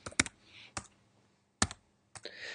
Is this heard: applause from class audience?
no